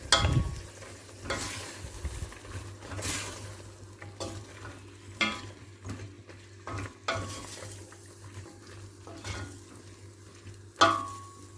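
Utensil scraping and stirring through green beans in a pot, with intermittent clatters against the sides over a low, steady cooking hum.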